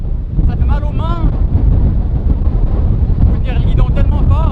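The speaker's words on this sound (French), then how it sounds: "avec un méchant vent de côté" Strong crosswind buffets the microphone during a bicycle ride through Mexico, a loud, continuous low roar of wind noise, with people talking over it at times.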